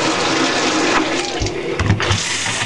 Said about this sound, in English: I'll even turn on the water